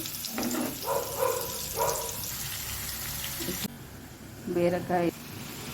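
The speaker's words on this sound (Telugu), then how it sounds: "బీరకాయ ముక్కలు ఫ్రై అవుతున్నాయండి" Ridge gourd pieces fry in a pan with a soft, steady sizzle heard under a voice speaking in short bursts nearby.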